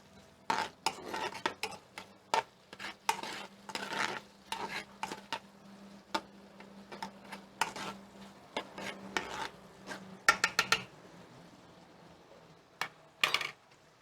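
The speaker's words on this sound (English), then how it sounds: "So I got to wash these dishes here I had." Dishes and a cooking vessel being washed in a kitchen sink, with irregular clinks, clatters and scrapes of pots and utensils, some sharp and close, between quieter stretches and no talking.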